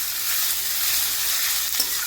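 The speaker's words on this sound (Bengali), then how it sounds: "ওদিকে আমাদের পেঁয়াজ ভাজা হচ্ছে" Onions frying in a pan, a loud close hiss of hot oil with a faint stirring scrape near the end, short and steady.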